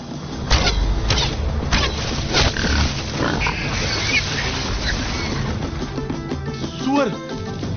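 A wild boar grunts and snorts during a hunting scene in the film Bahubali 2, with rough, loud bursts mixed among other busy scene sounds and voices.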